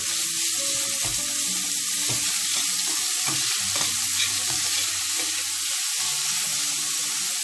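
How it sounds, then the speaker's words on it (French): Minced meat frying in a spoonful of hot olive oil, a steady close sizzle with crackling pops throughout and no talking. "Je mets une cuillère de l'huile d'olive bien chaude et je vais mettre la viande hachée à cuire"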